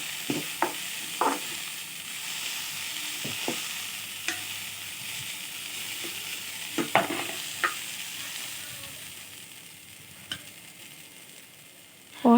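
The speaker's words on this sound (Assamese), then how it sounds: "এতিয়া মই যিখিনি পচলা ভাজি ৰাখিছিলোঁ সেইখিনি ইয়াতে দি পেলাই ভালকৈ লৰাই লৈছোঁ" Fried plantain (pasla) being stirred in a frying pan, with repeated scraping strokes of the spoon against the pan over a steady, soft sizzle of hot oil, close and fairly quiet.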